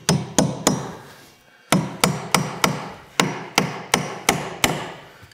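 Hammer toenailing a nail through floor joist blocking, about a dozen sharp, ringing blows in quick runs of three and four with short pauses, close and loud, no talking.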